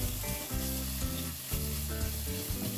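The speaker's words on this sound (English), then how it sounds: "Add the ginger garlic paste. Stir everything properly." Ginger garlic paste sizzles in a pan with onions for a Goan fish curry, a dense, constant hiss with a few soft stirring swells, heard alone over a steady tonal background.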